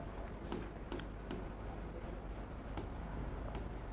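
Chalk or marker writing on a classroom board, a steady scratchy rubbing with sharp taps at each stroke start, close and continuous over a faint background hum, with no talk.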